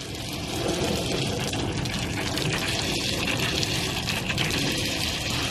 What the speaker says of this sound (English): Cooling it down out here with the water faucet off of the